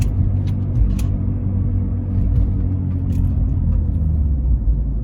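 A Volvo V50 T5 on the road with a worn wheel bearing, giving a steady low groan and rumble under the engine and tyre noise throughout, with no voices.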